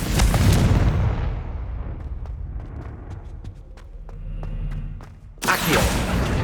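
A Confringo fire spell explodes in Hogwarts Legacy, opening with a loud, heavy blast that trails off into rumbling debris and faint crackles, then a second sharp burst near the end.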